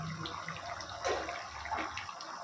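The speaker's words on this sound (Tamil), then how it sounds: "நல்லா கொதிக்குது" Faint bubbling and simmering of mutton gravy boiling in a pot, a soft continuous gurgle with occasional louder pops.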